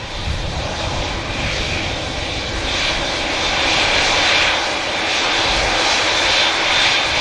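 An Etihad jet airliner takes off, its loud, steady engine roar swelling and holding throughout with a broad rumbling hiss and no voices.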